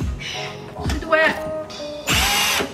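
A power drill backs screws out of plywood underneath a 4x4 vehicle, with short whirring bursts separated by pauses, close and fairly loud.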